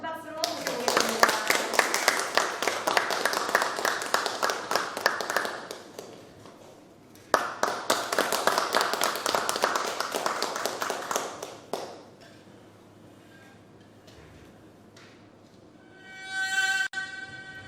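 Audience applause at a book concert welcoming a haegeum player, two steady bursts of clapping separated by a short pause, then fading to quiet room tone with a faint voice.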